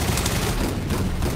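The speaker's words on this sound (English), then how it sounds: "there's a minigun!" A minigun fires in a continuous, dense roar of rapid shots in the VR shooter Gun Raiders, loud and close, filling the whole moment without a break.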